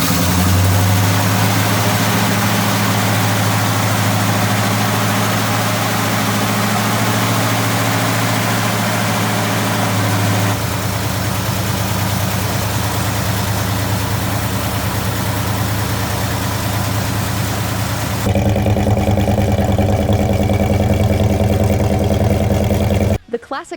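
A 1970 Pontiac GTO engine runs steadily and loudly at close range, a deep continuous rumble with a shift in tone partway through and a brief cutoff at the end.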